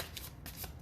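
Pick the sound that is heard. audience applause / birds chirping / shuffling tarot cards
shuffling tarot cards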